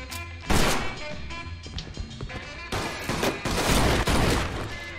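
Rapid gunfire from a Mafia 2 shootout: dense, loud bursts of overlapping shots and crashing impacts repeat throughout, with heavy clusters near the start and toward the end.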